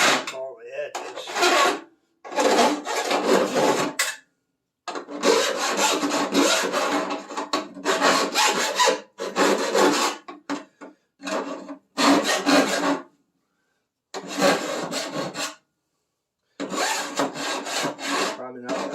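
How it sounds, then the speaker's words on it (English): Hand file rasping metal edges to deburr a rust-repair hole cut in a Triumph Spitfire floor pan, in repeated bursts of strokes separated by short pauses, close and fairly loud with no talk. "I did go get a file so I can deburr"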